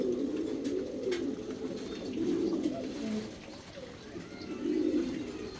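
A pair of red American Helmet pigeons cooing close by, repeated low rolling coos in slow bursts over a faint room hum.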